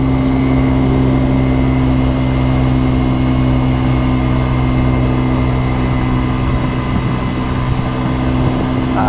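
A Kymco Agility 50 scooter engine droning loud and constant while riding to a park, a steady hum with heavy wind rush and no pauses.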